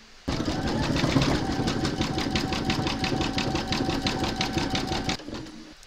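An embroidery machine runs a satin stitch on a large Mrs Claus appliqué apron, a fast steady mechanical rattle that starts abruptly, holds evenly for about five seconds, then cuts off.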